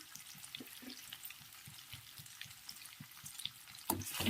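Paneer frying in butter and oil in a pan for paneer butter masala, a steady soft sizzle with occasional crackles and stirring scrapes, louder bursts of spattering near the end.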